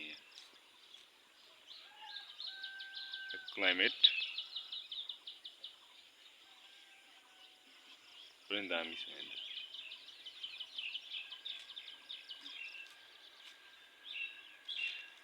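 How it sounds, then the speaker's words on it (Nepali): Birds chirp on a green school compound on a Nepali morning, with two loud close calls and a scatter of fainter tweets around them. Someone speaks quietly over the birdsong. "चराचुरुङ्गीको बिहान बिहानको चिरबिर आवाज"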